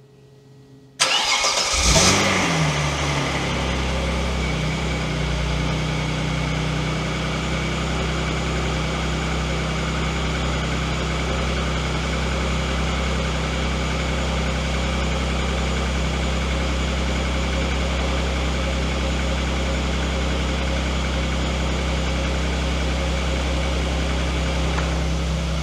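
An Opel Omega B V6 with a newly fitted exhaust cranks briefly, fires up and then settles into a steady, smooth idle with a deep low rumble that runs on alone for over twenty seconds.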